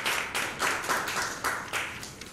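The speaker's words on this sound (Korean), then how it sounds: "크게 박수로 환영해 주시고" A church congregation applauds during a Sunday morning service; loud clapping from a crowd with a pulsing, almost rhythmic swell, heard alone without talk.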